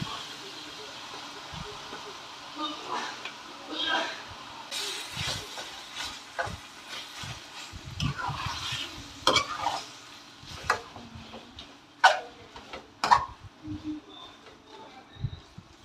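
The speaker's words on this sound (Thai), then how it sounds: "จะเอาขนุนที่เราต้มนี่แหละค่ะลงไปผัดด้วยนะคะ" Boiled jackfruit for a soup is stir-fried in a pan, producing a low sizzle under irregular scraping and stirring strokes that grow sharper and louder with a few distinct knocks near the end.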